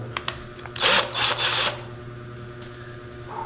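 A power drill bores a hole, with brief whirring bursts separated by short pauses, followed by a high electronic tone near the end, all close and moderately loud with no talk.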